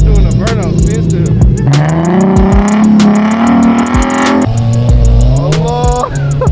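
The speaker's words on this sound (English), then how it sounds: "Nah, bro, doing a burnout." An Infiniti G37 doing a burnout in snow, its engine revving loud and steady with rising and falling pitch and whining tire spin, close and continuous throughout, with faint voices briefly underneath.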